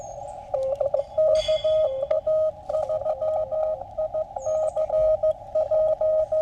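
A steady ham radio carrier tone from someone holding down the transmit key, a clear whistling note that keeps breaking up and returning with brief gaps, loud over faint static and background clicks.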